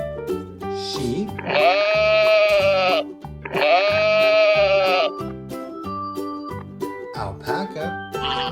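Sheep bleating from a children's farm-animal learning toy: two long, loud, wavering bleats of about a second and a half each, separated by a short gap, over light background music.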